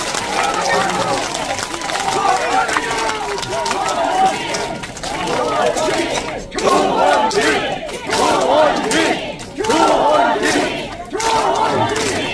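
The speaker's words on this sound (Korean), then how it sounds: "우레와 같은 박수" Crowd at a book launch talk show breaks into loud applause and cheering in surging waves, rising and falling, with shouting voices and speech mixed through the noise.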